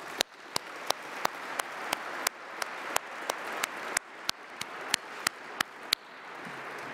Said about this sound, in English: please, another round of applause to our former directors